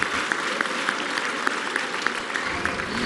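A crowd applauding at a school inauguration event, a steady dense wash of clapping with occasional sharper hand claps, moderately loud throughout.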